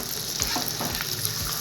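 Mutton kofta balls, boiled beforehand, fry in a pan in a steady close sizzle of hot oil, with faint scraping as they are stirred and turned.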